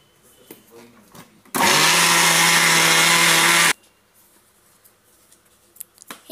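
A mixer grinder runs at full power grinding an ellu puranam filling of sesame mixture, a loud steady whirring roar that starts abruptly, holds for about two seconds, then cuts off, with faint handling sounds before and after.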